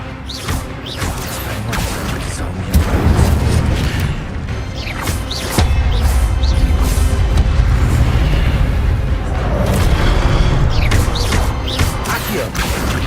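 Spellcasting combat in Hogwarts Legacy, with a fire spell and other spells going off in a continuous loud stream of booms, whooshes and crashing impacts over a steady rumbling game soundtrack.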